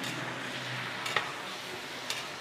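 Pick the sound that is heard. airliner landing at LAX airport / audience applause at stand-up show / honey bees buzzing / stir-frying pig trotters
stir-frying pig trotters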